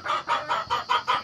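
A BV80 hen clucks in a quick even rhythm, six close, clear clucks in just over a second with no talking over them.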